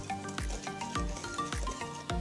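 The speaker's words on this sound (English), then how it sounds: "And let's give that a final little whisk." A whisk works through brownie batter with vanilla extract in a bowl, making a quick run of rhythmic scraping strokes about twice a second, close and fairly quiet, with no talk.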